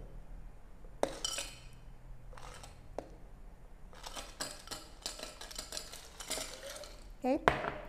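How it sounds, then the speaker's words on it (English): Ice cubes clink and rattle into a glass of iced moka pot coffee: a few sharp, close chinks and knocks of glassware and a spoon, set apart by quiet gaps in a small kitchen. "And then I'm going to put some ice"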